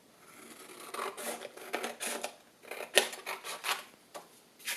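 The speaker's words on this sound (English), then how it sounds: "take your other half and cut that one in half." Scissors snip through paper in a series of quick, crisp cuts, close and quiet, with short pauses between bursts.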